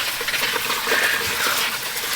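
Liquid gushes steadily out of a container during tomato canning, a continuous splashing pour heard close and fairly loud for a couple of seconds.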